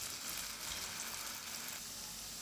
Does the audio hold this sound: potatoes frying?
yes